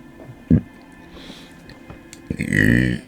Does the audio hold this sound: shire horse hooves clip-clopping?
no